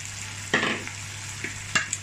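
Onion and cabbage frying in a pan while cooking chira pulao, a low steady sizzle under a hum, broken by a couple of brief scraping stirs.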